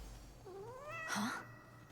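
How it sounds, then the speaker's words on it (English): A cat in the Hades II video game gives a single rising, drawn-out meow, fairly clear over a low, steady game background hum. "Yes, that is a cat."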